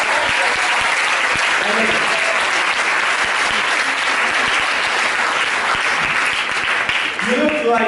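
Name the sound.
audience round of applause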